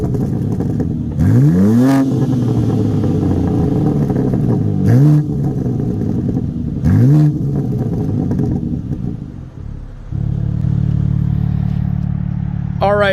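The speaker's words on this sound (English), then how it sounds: "I had the car warming up during the entire video just so I could do a proper exhaust note test for you" A 2022 BMW M3 Competition xDrive, warmed up, barks through three sharp revs that rise and fall, then settles into a steady, loud idle before a final short blip near the end.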